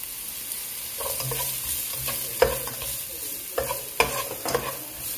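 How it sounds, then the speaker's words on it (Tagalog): Sponge gourd (patola) sautéing in a pan, a steady sizzle of frying with scraping, stirring strokes and a few sharper clatters, close and moderately loud with no talking. "Dito igigisa ni Che yung patola."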